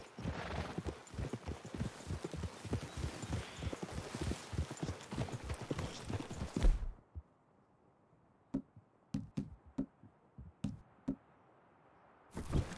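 Horse hooves clip-clop at a steady walking pace in the video game Red Dead Redemption 2, then stop, followed by a few scattered knocks in near silence.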